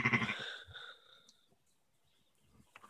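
One drawn-out sheep bleat rings out nearby, then fades into near silence with a few faint rustles.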